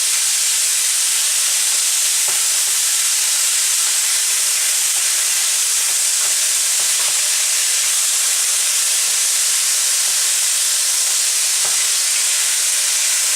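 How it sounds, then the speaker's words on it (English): Continuous loud sizzling of food frying in a hot pan, a steady crackling hiss with occasional soft pops. "I know I'm talking over sizzling"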